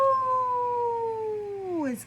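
A human voice imitates a coyote howling, one long sustained wavering "ow" held for about two seconds before sliding downward at the end, close and fairly loud.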